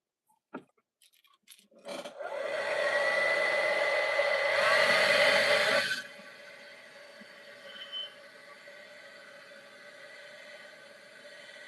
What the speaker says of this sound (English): I gotta hit this with a hair dryer.